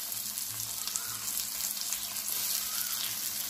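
Tomato fries with onions in a pan as a base for a Rameshwaram-style fish curry. A steady bright sizzle with a soft hiss carries on evenly throughout, with no voices.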